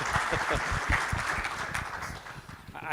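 At a cardiac society scientific congress, an audience claps for a doctor in a steady, moderate round of applause that carries evenly through the short stretch with some murmuring voices underneath.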